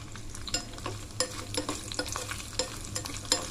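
Cashew nuts fry in hot ghee with a steady crackling sizzle, while a spoon scrapes and stirs the pan in frequent sharp clicks, close and fairly loud, with no talking.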